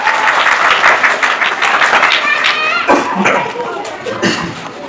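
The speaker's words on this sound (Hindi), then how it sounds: "बच्चे जोरदार ताली से सर का स्वागत करेंगे।" Children at a school farewell and honour ceremony for a retiring teacher clap loudly together, a dense sustained burst of applause from a large group that fades slightly toward the end.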